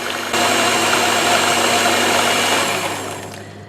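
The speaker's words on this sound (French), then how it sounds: "je laisse faire le robot faire le mélange" A food processor mixes a dessert preparation after baking soda is added, a loud, steady motor whir with a mechanical hum that starts abruptly and fades as the machine winds down.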